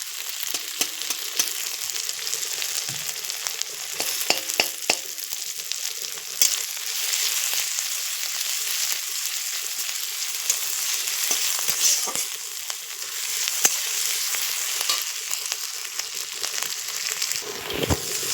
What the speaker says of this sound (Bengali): এগুলো জাস্ট হালকা করে ভাজবে,